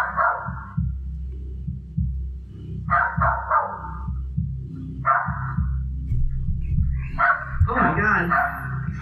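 A Russell Terrier barks in short, sharp bursts at a dark figure outside at night, four or five separate volleys spaced a couple of seconds apart, the last longer and more frantic, over a low steady hum.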